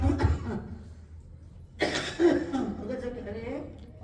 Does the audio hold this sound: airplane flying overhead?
no